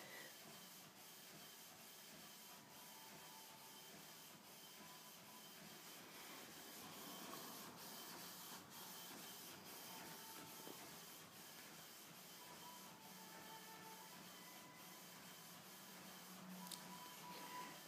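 A home printer prints a birthday card with a faint, steady mechanical whir and hiss, marked by regular soft clicks of paper feeding along its length.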